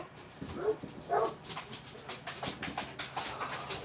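A dog barks and whimpers in a rapid, uneven series of yips and woofs, moderately close and continuous throughout, with no talking.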